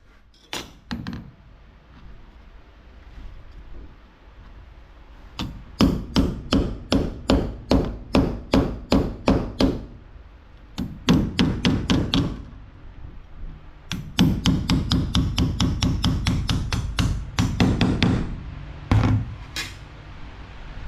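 Hammer blows ring on welded sheet metal of a 1969 Pontiac Catalina wagon, loud and close in a steady rhythm, falling into several fast bursts of sharp metallic strikes with short pauses between them.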